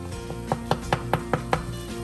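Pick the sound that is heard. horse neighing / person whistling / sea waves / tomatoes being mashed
tomatoes being mashed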